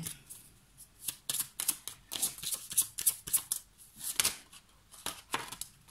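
Oracle cards being shuffled and drawn by hand, a close series of quick riffling flutters and soft slaps in uneven bursts, with no talking.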